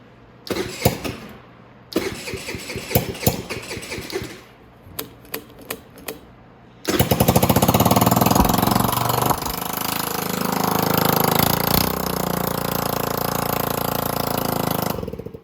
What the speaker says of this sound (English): if you ever wanted to hear a 50cc with the whole exhaust off, that's what it sounds like